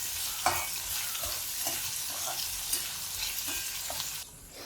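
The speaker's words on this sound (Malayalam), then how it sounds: "പൊട്ടറ്റോ നന്നായിട്ട് എണ്ണയിലൊന്ന് ഇളക്കി വഴക്കി ഒരു നാലഞ്ച് മിനിറ്റ് ഒന്ന് വേവിച്ചെടുക്കാം" Potato pieces sizzle in oil for a spring onion potato stir fry while a spoon stirs them, scraping and tapping the pan at intervals over a constant close frying hiss.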